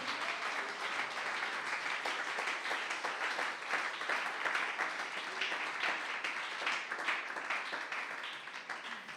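A church congregation applauds during a Spanish-language Easter sermon, a dense, steady wash of many hands clapping, fairly faint and distant, fading slightly at the end.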